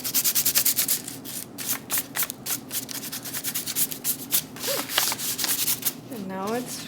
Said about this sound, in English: then you will just rub off the salt because it'll be all rough from the salt, so you gotta just rub it right off.